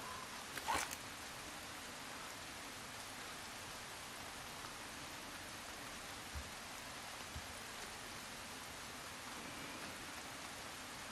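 Steady rain falling in the video game Resident Evil 4 Remake, a constant hiss of drops on surfaces with a brief louder patter near the start, heard alone without voices.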